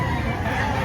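A chicken at a poultry market in Lipa, Batangas clucks steadily and close by through a brief, dense stretch of noisy market sound.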